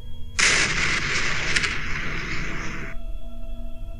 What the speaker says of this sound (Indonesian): makam Parjo meledak dan mengeluarkan asap putih yang sangat banyak